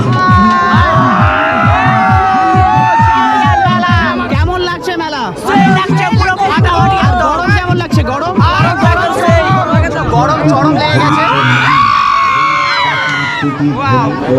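Dense crowd at the Swaminath fair late at night, around eleven o'clock, with loud continuous chatter, shouts and cheering voices all around, close and busy throughout.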